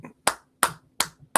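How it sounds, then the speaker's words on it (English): Four sharp, single hand claps land at an even, slightly slow pace, close and crisp with silence between each one. "Are you hearing clapping? I'm hearing clapping."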